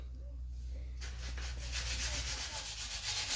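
Planer blade sharpened on a Grizzly sharpener, a steady abrasive rubbing hiss that starts after a second of low hum and continues evenly and close.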